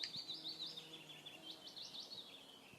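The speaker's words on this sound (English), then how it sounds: "now I can hear birds" Faint bird chirps and short trilling calls repeat over a quiet ambient background in the video game Gorilla Tag, with no talking.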